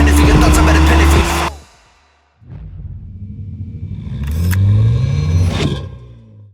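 A 2018 BMW M2 Competition's engine rumbles loudly at first, cuts out briefly, then returns with rising revs and a swelling, fairly close growl.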